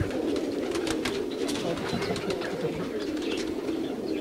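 Highflyer pigeons coo steadily nearby in their enclosure, a soft continuous burble of several birds with no talking over it.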